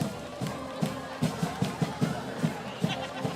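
A high school football crowd at Syosset cheers and murmurs in a distant, diffuse roar, with rhythmic thumping or clapping beats running through it.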